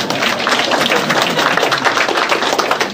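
Audience clapping at a speaker series event on democratic governance in Africa, a dense, even wash of many hands applauding continuously and fairly loudly.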